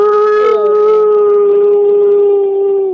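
A dog howling at night in the rural Thai village of Sa Luang, one long loud wavering howl close by that slides and holds steady.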